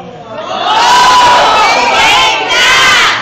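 A loud crowd at a balagtasan, a Filipino verse-debate event, shouts in unison and holds a sustained cheer up close, dips briefly, then surges again.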